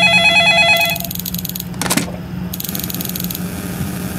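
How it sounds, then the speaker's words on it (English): A telephone in a Roblox gas station game rings in bursts of trilling bells, loud and close, over a steady low engine hum, with no voices. "Oh wait, I think this is when the phone rings."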